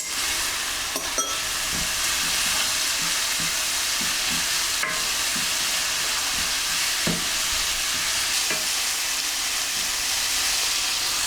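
Curry powder and ginger garlic paste fry in a pan for a British Indian restaurant chicken karahi curry, making a loud, continuous hiss with scattered scraping taps of stirring throughout.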